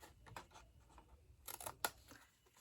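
Scissors cutting a small square out of the corner of a cardboard box: a few quiet, crisp snips and rustles close by, in a still room.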